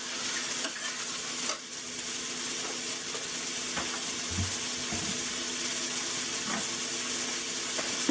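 Eggplant sizzles steadily in a frying pan while a utensil stirs it, with occasional scraping knocks against the pan over the constant crackling fry, close up and without talk.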